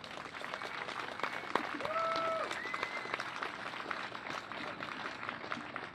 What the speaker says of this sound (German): Deswegen ein Applaus an Lars und auch alle, die hier sind.